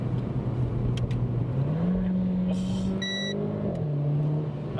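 A Renault Clio RS engine revving and pulling hard under acceleration with three people aboard, a steady loud drone that climbs in pitch, dips with a gear change and climbs again, with a brief electronic chime partway through.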